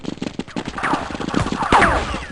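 Rapid, close gunfire from the video game Counter-Strike 1.6 rattles in quick repeated bursts with sharp metallic cracks throughout.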